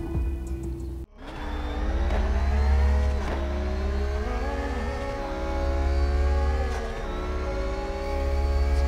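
BMW engine in CarX Drift Racing Online revving hard while drifting, a loud sustained engine whine rising and dipping with throttle shifts, after a brief cut near the start.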